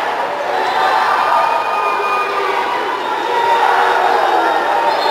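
A football crowd at a regional amateur tournament quarter-final in Brazil jeers and taunts the players, a dense, loud, continuous roar of many voices from the stands.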